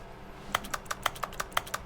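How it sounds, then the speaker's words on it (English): Keyboard keys click in a quick uneven run of about a dozen taps inside the video game The Stanley Parable, crisp and close with quiet room tone underneath. "I'm still clicking a keyboard somehow."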